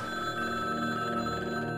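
A telephone rings in the 2016 remake of the horror adventure game Downfall, with a bright, sustained electronic bell tone droning steadily throughout and no talk over it.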